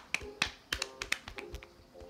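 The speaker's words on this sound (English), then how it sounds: "Let's clap for Dane, Divya." A few distinct hand claps at home, sparse and uneven, about seven or eight sharp slaps spaced irregularly, fairly quiet and close.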